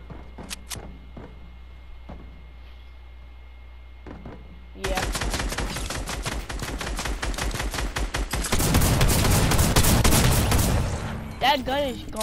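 Gunfire in Fortnite, a few sparse shots at first, then rapid bursts of automatic fire growing louder and denser, with voices talking over the shooting.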